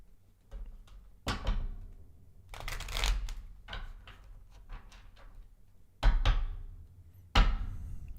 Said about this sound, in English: We're going to start shuffling